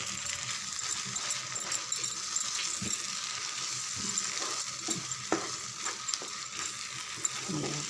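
Yogurt being stirred into frying masala in a pan for an egg dish, with a steady hiss of frying and scattered scraping and clinking from the spoon.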